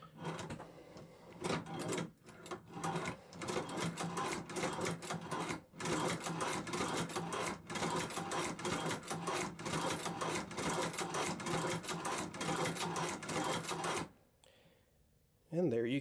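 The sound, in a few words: hand-cranked leather sewing machine stitching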